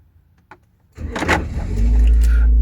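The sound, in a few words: starting the Daihatsu Terios car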